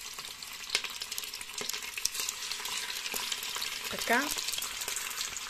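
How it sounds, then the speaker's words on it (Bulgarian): Sausage frying in an Instant Pot Pro multicooker for sausage with sauerkraut, a soft steady sizzle with a few sharp ticks, and a brief spoken word partway through. "Искаме хубаво да се запържи нашата наденица."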